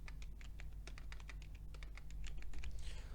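Rapid typing on a computer keyboard while writing in WordPad, a steady run of close, crisp key clicks with no voices over a low background hum.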